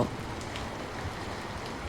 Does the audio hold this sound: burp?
no